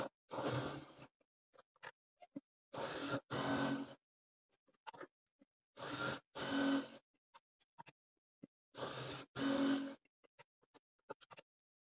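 A sewing machine stitches a salwar in short bursts, each run of rapid mechanical clatter about a second long, separated by silences and a few small ticks and clicks.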